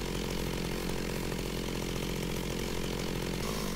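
A chainsaw drones steadily in the Minecraft video game, a constant buzzing whine that holds at an even level throughout with no speech over it.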